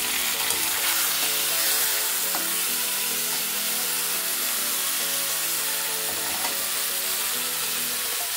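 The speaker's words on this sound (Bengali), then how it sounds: "এখন সিদ্ধ করা আমটা আমি দিয়ে দেবো" Boiled mango drops into hot oil tempered with spices, setting off a loud, continuous sizzle and spatter that stays close and steady throughout, with faint stirring and no speech.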